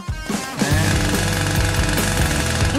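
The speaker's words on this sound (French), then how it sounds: "Et moi, je vais utiliser une scie." A loud, rapid mechanical buzzing like a power saw cutting, starting abruptly and running steadily close by.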